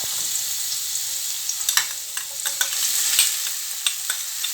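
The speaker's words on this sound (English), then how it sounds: "Now we add some of the vegetable oil in the pan. We add" Garlic fries in vegetable oil in a pan, a steady close sizzle broken by scraping stirs and light taps of a utensil.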